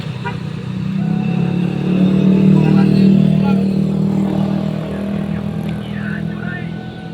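Steady road traffic of motorcycles, three-wheelers and cars on a busy street in Bone Bolango, Indonesia, on New Year's Eve: a continuous engine drone that swells and eases as vehicles pass close by, with faint voices in the background.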